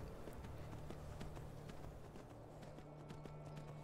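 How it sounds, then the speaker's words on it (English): Horse hooves clip-clop in a steady quick rhythm in Skyrim, soft and even against a low ambient hum, continuing for several seconds. "It's a runaway horse."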